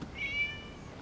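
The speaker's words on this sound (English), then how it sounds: "It was just a cat." A single cat meow rings out in the Genshin Impact video game, one clear drawn-out call near the start over a low ambient game backdrop, with no voices.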